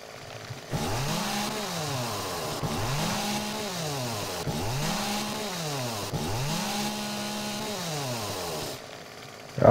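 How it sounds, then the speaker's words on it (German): A chainsaw in the video game 7 Days to Die runs loud and continuous for about eight seconds, its engine pitch swelling and dropping in four regular revving cycles before cutting off, with no voices. "So, eine Kettensäge ist schon ganz schön praktisch, wenn man die dabei hat."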